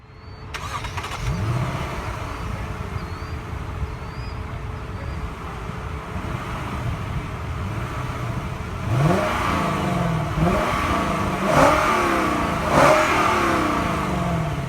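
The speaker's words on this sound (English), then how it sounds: "To start the engine, push your foot down the brake and press the start button located right here." A 2016 BMW 7 Series engine starting with a push-button start, settling into a steady idle before several rising revs close by, each swelling and dropping back.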